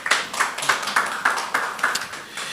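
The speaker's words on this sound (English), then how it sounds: "So please clap for Taiwo." An audience at a parenting masterclass applauds with steady, dense clapping from many hands, close and continuous, with no one speaking over it.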